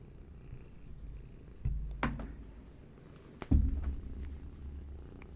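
A house cat purrs softly and continuously up close, a low rumbling drone, interrupted twice by sharp knocks as the cat bumps the microphone.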